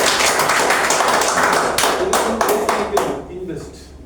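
Audience applause at a motivational speaking event, loud dense clapping throughout that thins and fades toward the end, with a voice faintly audible beneath.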